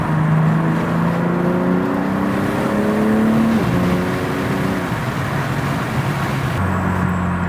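BMW G80 M3 with a new exhaust heard while driving with the windows down, a loud sustained engine drone rising and shifting through gears under rushing wind noise, steady and close.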